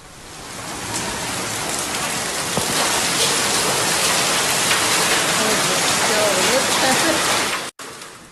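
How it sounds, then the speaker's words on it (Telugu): Heavy rain pours down in Ghaziabad, a dense, even hiss of drops hitting surfaces close by, holding steady for several seconds before cutting off abruptly. "ఘజియాబాద్లలోనూ వానలు కురుస్తున్నాయి"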